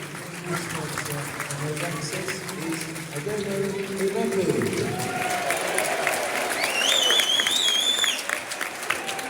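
Football crowd at Millwall versus QPR applauding the man of the match, a broad steady wash of clapping and crowd noise swelling toward the end, with a commentator talking over it and a few whistles rising near the close.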